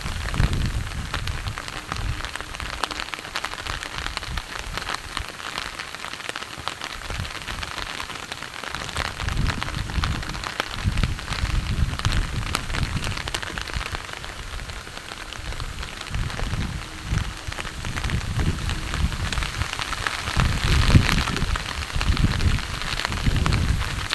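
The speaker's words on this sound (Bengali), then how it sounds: "বৃষ্টি চলছে," Steady rain pours over a flooded field and pond bank during monsoon fishing, a dense, continuous hiss with soft patters and low rumbling swells, close and enveloping, with no voices.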